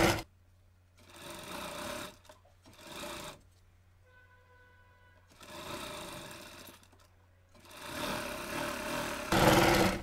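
An electric tailoring sewing machine runs in several bursts while stitching a blouse waistband, its motor whirring loudly, stopping between runs with quiet pauses and a faint hum.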